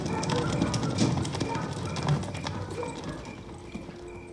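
Rapid hoofbeats of horses galloping, a steady clattering rhythm close by with a busy outdoor background.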